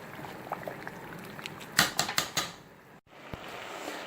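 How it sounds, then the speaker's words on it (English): Pasta boiling in a pot of water on a stovetop for mac and cheese, giving a quiet, steady bubbling with a brief cluster of sharper pops partway through. "So now that my pasta has been cooking for some time, I'm going to give it another stir"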